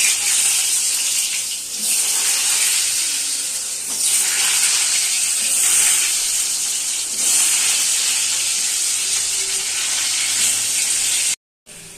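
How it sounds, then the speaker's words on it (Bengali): Potato pieces coated with salt and colouring fry in hot oil for a kasuri methi chicken dish, making a loud, continuous bright sizzle that swells and eases in waves and cuts out briefly near the end. "তো প্রথমে আমি আলুটা ভেজে নেব।"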